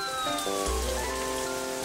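Steady rain falls on surfaces in an even, continuous hiss with gentle music playing over it.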